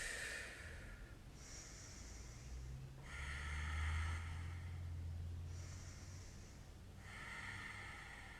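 Slow, deep breaths taken during a chair yoga session, close and fairly loud, with airy inhales and exhales rising and falling in an unhurried rhythm, with no talking.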